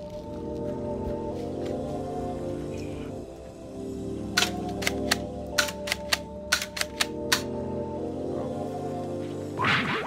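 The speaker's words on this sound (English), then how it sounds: "I'm gonna come over here and shoot this bottle or whatnot, and then I'm gonna finish it off with the .177 Glock" A .177 airsoft Glock pistol fires at a bottle, about eight sharp, light snaps in an uneven burst over a steady low engine-like hum in the background.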